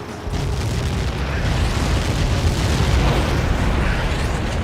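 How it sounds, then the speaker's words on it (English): A massive blast from the impact of a superweapon strike in the flight combat game Ace Combat 7, a loud, sustained roaring boom with rumbling debris filling the whole stretch without letup. "How many got caught in that explosion?"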